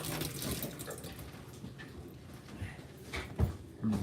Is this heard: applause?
no